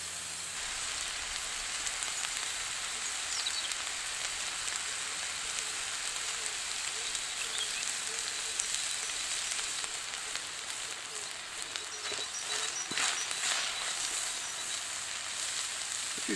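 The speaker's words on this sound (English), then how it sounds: "we're just going to grill some bacon" Bacon on the grill sizzles with an even, rain-like hiss that holds steady throughout, soft and close, with a few faint clicks and no speech.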